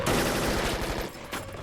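Dense rapid gunfire from AK-47s in a film shootout, a loud continuous burst of overlapping shots that fades out, followed by a brief sharp crack near the end.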